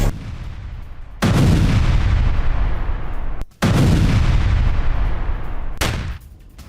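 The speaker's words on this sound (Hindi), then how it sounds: "रॉकेट लॉन्चर से विनाशक हमला किया गया" Rocket launcher fire in a Russia–Ukraine war attack on Ukrainian military positions: three huge blasts, each a sudden roar that trails off slowly, loud and echoing across open ground.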